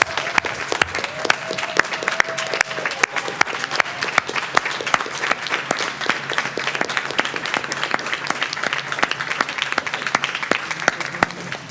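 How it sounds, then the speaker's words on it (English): An audience at a board of education meeting gives a sustained round of applause for the Ohio State Young Scholars, dense steady clapping lasting the whole stretch with a few louder claps standing out and faint voices mixed in. "just a round of applause to our Ohio State Young Scholars"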